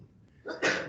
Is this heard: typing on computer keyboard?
no